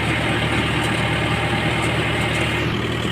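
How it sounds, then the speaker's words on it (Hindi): A non-turbo Mahindra 585 DI Power Plus tractor engine runs steadily at about 1200 RPM powering a thresher, a loud continuous rumbling drone close by with no voices. "1200 RPM पर ट्रैक्टर चल रहा है"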